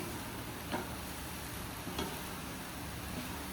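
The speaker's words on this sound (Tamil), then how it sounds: "இதெல்லாம் இப்போ நான் ஒன்றா கிளற போகிறேன்." Fish semiya masala stirred in a pan, with occasional soft scrapes over a faint steady sizzle, fairly quiet throughout.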